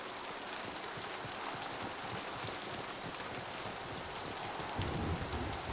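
Heavy rain pours down during a very wet mission in the video game Mass Effect 2, a dense constant hiss of drops on surfaces with a slight swell near the end, no voices.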